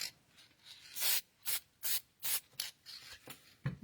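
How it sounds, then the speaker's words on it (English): An aerosol spray can hisses over a ceramic piece painted with chalk soft pastels, about six or seven short bursts in an uneven rhythm, close and fairly loud with quiet gaps between. "Let's spray it first."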